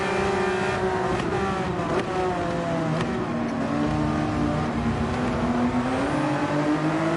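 Ferrari race car engine at Brands Hatch in a racing game, a sustained close, loud whine whose pitch climbs and shifts through gear changes, with no talk over it.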